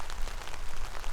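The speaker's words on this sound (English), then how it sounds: "The thunder, lightning, and rain is just pouring in" Rain pours onto a tarp over a canoe-trip campsite, a dense, steady patter heard briefly and fairly softly with no voices.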